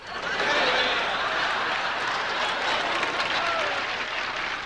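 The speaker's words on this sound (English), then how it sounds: "please, don't, don't applaud" Audience applause at a celebrity roast, a broad, sustained wash of many hands clapping from a sizable crowd, steady and even throughout, with faint murmurs mixed in and no clear talk on top.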